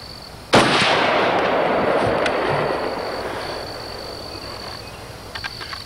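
A single loud, close .223 rifle shot fired with an expanding point bullet at an outdoor target, a sharp crack followed by a long rolling echo that fades over several seconds, with steady insect or frog chirping in the background.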